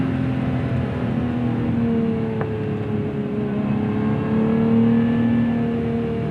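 Lotus Emira engine drones steadily from inside the cabin on the road, its revs rising and dipping gently through a heel-toe downshift, loud and continuous with no talk.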